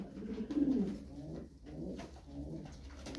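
Kuwaiti miski pigeons cooing steadily in a loft, low rounded coos repeating close by, with faint wing flutters mixed in and no voices.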